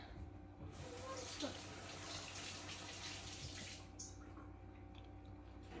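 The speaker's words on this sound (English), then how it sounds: "I'm gonna rinse off the bung because it's all sticky." A kitchen tap gushes over a sticky wine bung being rinsed in the sink, a steady close hiss of running water with faint squishing, ending shortly before the finish, with a voice faintly present.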